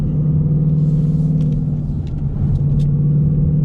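A 2019 Ford Mustang GT with 460 horsepower and 420 lb-ft of torque drones low and steady while cornering hard, a continuous rumbling engine note heard close without talk.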